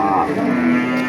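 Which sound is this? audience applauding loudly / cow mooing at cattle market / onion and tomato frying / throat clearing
cow mooing at cattle market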